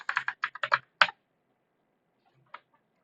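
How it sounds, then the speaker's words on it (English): A password being typed on a computer keyboard: a quick, close burst of about eight crisp keystrokes, then near silence broken by one final tap. "So just type in your GitHub password."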